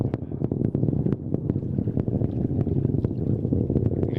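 A SpaceX Falcon 9 rocket on the Transporter-3 launch, watched from a causeway, sends a heavy low rumble laced with sharp, irregular crackling pops, loud and continuous across the distance.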